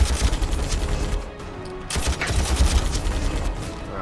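Space Marines fire tactical bolters in Warhammer 40,000 Armageddon, loud bursts of rapid gunfire in two volleys with a brief lull between, close and dense.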